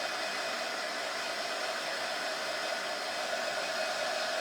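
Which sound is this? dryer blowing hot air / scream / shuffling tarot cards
dryer blowing hot air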